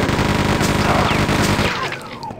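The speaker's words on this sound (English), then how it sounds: "Chain gun is definitely worthy against these bastards." Chain gun firing in Quake II RTX, a rapid continuous burst of loud mechanical shots with rumbling impacts, the barrage easing off and trailing into fading whines near the end.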